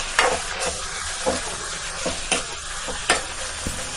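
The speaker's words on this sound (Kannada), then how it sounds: "ಎಣ್ಣೆಯಲ್ಲಿ ಅದನ್ನು ಫ್ರೈ ಮಾಡ್ಕೋಬೇಕು" Small coconut pieces and spices frying in oil in a pan, a continuous sizzle broken by regular scraping stirs of a spoon, close and fairly quiet with no voices.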